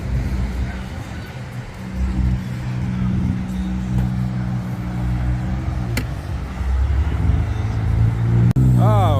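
A Dodge Charger Hellcat engine rumbles steadily at a car show, with a swell in revs near the end, and a voice talks over it.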